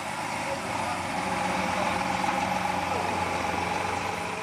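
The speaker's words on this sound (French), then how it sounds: "a mis à disposition son tracteur et sa remorque" A farm tractor engine hums steadily while pulling a trailer through floodwater in a flooded town, a moderate, continuous low drone with faint background noise and a voice speaking over part of it.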